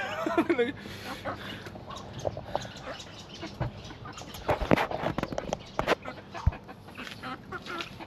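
Chickens cluck in a backyard garden in short, scattered bursts at moderate distance, mixed with voices and other yard noise.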